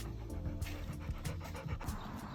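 A dog panting steadily at an outdoor dog park, rapid breathy pants in a quick rhythm, fairly faint and close against a noisy background.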